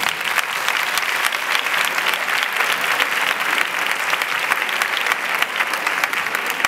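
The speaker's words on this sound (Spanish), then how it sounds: "A Juan Peralta, fuertes aplausos para él" A concert audience gives steady, sustained applause to welcome a singer, dense even clapping that rolls on for several seconds with no talking.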